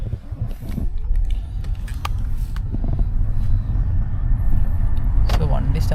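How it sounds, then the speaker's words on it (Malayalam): A taxi engine in Prague rumbles into life and settles to a steady low idle inside the car, with some handling clicks early on. "So വണ്ടി സ്റ്റാർട്ട് ചെയ്തു കേട്ടോ"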